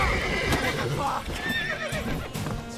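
A horse whinnies and neighs close by in The Witcher 3: Wild Hunt, alongside clip-clopping hooves and game sounds in a short, busy scene.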